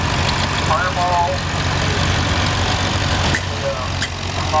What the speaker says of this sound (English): This is Josh, driving the 1948 Farmall